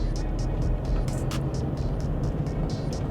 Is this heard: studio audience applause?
no